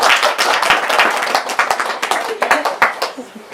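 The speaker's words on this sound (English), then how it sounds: "let's give him a clap" Audience clapping at a spiritual talk, starting as a dense burst and thinning into scattered, distinct individual claps that slow toward the end, with some voices talking underneath.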